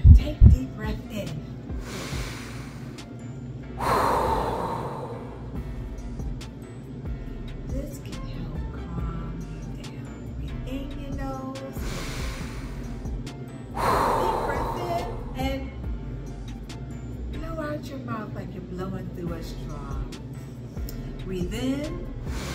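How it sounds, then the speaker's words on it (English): Slow deep inhalation during a relaxation exercise, two long breathy swells a few seconds each rising out of a low steady hum, close and moderately loud, with a gentler breath toward the end. "Take deep breath in."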